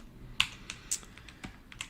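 Sparse keystrokes tapped on a computer keyboard while working on a VirtualBox fix, a handful of distinct clicks spread unevenly over a quiet background.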